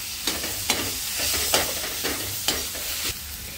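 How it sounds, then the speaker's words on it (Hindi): Onions frying in a pan with a spoonful of ginger-garlic paste for besan gatte curry, a steady close sizzle broken by several sharp scraping stirs, no voices. "अब यहाँ पर अदरक लहसुन का पेस्ट एक चम्मच डाल देंगे, ये भी साथ में भी भून जाएंगे"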